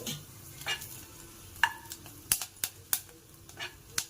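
Cut dried red chillies frying in hot oil for a green apple pachadi, a faint low sizzle broken by several sharp clicks and taps of a utensil against the pan.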